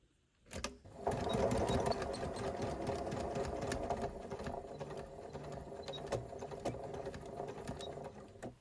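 A sewing machine stitches the front edges of a waistband on pleated trousers, starting after a brief knock and running in one long, steady, moderately loud whir of rapid needle strokes.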